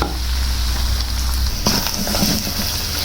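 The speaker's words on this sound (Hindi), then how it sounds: "अब इसको 2 से 3 मिनट अच्छी तरह फ्राई करेंगे ताकि मसाले बीच में अच्छी तरह भुन जाए।" Spices and minced meat for aloo keema fry in a pan with a loud, steady sizzle, and a stirring scrape joins partway through.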